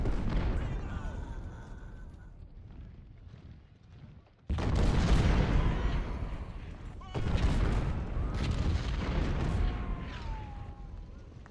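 Artillery fire in Ultimate General: Civil War, rolling cannon blasts and rumbling explosions in two heavy bursts after a quieter stretch of distant firing, loud and sustained.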